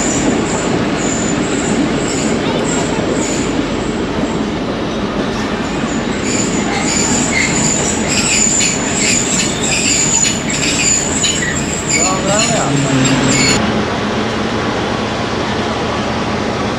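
A passenger train at Samaro Road railway station on the Marvi Passenger route, with loud, continuous rolling wheels, rail clatter and high-pitched wheel squeal that fades and drops sharply near the end.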